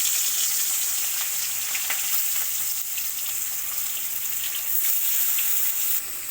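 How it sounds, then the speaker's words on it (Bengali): Fish frying in hot oil in a kadai wok, a steady hissing sizzle with small crackles and pops running throughout, close and even, no one speaking. "কড়াইতে তেল দিয়ে মাছগুলো প্রথমে ভেজে নেব।"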